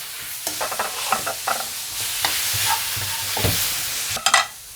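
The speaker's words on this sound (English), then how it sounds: "let's take our stir-fried veggies here. Dump that all in. Okay, I'm rocking a medium-high heat right now." Stir-fried vegetables for japchae dumped into a hot pan over medium-high heat, producing bursts of loud sizzling with scraping and clattering stirring, close and without talk.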